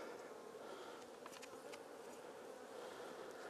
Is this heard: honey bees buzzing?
yes